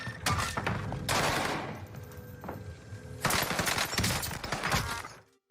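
Gunfire in Fortnite: rapid automatic bursts of shots fired at a wall, close and loud, in two long volleys with a brief gap between.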